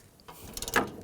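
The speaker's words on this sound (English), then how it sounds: "I'm gonna use a 13mm socket. Take this bolt out here." A ratchet with a 13mm socket clicks quickly and faintly while loosening a bolt on a 2013-16 Nissan Sentra radiator, a short burst of close mechanical ratcheting.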